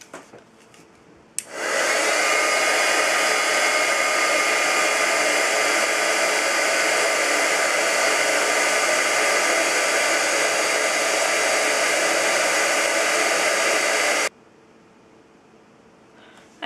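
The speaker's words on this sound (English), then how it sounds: "And then with my heat tool, I'm going to melt that." A heat embossing tool roars with a steady, loud blowing hiss for about thirteen seconds as it melts embossing powder on a handmade butterfly card, starting and stopping abruptly, close by with no talk.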